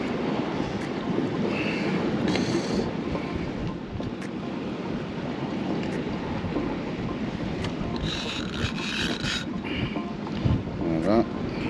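Strong wind buffets the microphone at a seaside dike during surfcasting, a constant loud rushing roar with occasional sharp knocks and faint distant sounds, and no voices present.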